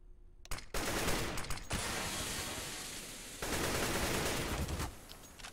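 AK rifle in CS:GO spraying through wooden cover, two long rapid-fire automatic bursts, loud and close, separated by a brief pause, with no talking.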